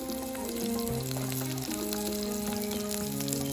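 Onion and garlic sizzling in hot oil in a pan for Jaffna-style fried egg curry, a continuous close crackle with a steady background tone underneath.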